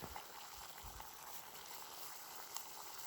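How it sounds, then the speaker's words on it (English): Water bubbling at a steady rolling boil on an Esbit camp stove, a continuous close hiss and churn with small pops, no voices. "that one's just boiling away."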